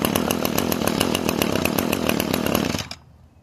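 An Echo chainsaw from around 2000 running loud and close with a steady buzzing two-stroke drone, then cutting off abruptly near the end and leaving near silence.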